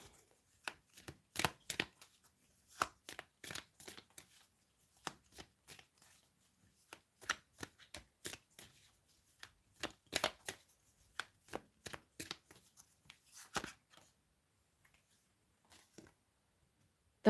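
Tarot cards are shuffled and drawn from the deck, giving close, dry riffling bursts and crisp snaps in quick irregular clusters with short quiet gaps between them.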